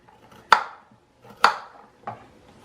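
Kitchen knife chopping carrots on a cutting board while preparing tacos, with two sharp, distinct chops followed by a softer third cut, close and fairly loud with quiet pauses between.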